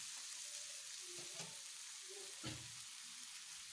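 Chopped ridge gourd and other vegetables sautéed in a pan for a paneer curry, giving a steady soft sizzle, with a few quiet scraping stirs on top. No one speaks.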